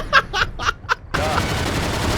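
Video game gunfire: a quick run of four sharp shots, then a dense, continuous burst of automatic fire, loud and up close.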